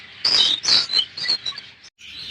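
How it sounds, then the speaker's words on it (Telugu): Budgies and cockatiels in an aviary colony chirp and tweet in several bright bursts. The calls come close and loud with brief gaps between them. "ఇప్పుడు నా యొక్క బర్డ్స్ కాలనీ లోపల చూడండి"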